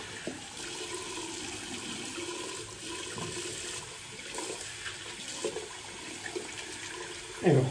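Hot water runs from a tap to rinse and reopen a shaving brush, a steady close rush of flowing water with small splashes and a louder surge at the end.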